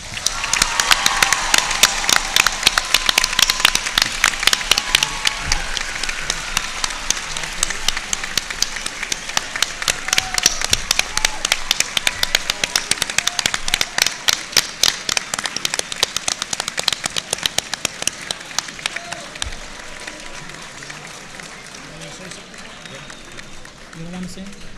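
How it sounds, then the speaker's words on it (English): Audience at a school board meeting claps for students in a long, dense round of applause that gradually thins and fades toward the end, with some voices underneath. "let's give them a round of applause."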